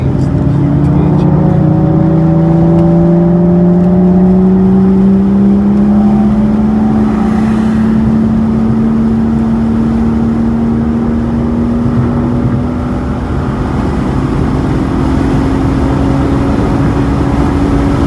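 Car engine revving hard on a race track during a novice track-day session, a loud sustained drone with a rising pitch as the car accelerates, the exhaust roaring throughout.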